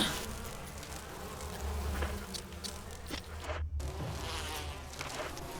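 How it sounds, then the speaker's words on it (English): Bees swarm with a steady, close, droning buzz inside the Resident Evil HD Remaster video game, holding at a moderate level throughout with slight swells and no speech. "Bees did not think that was very funny."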